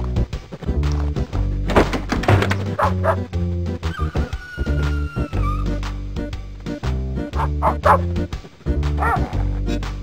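Small yappy puppies bark and yip repeatedly in a video game set in a mall, their quick bow-wows and whimpers riding over loud, steady game music throughout.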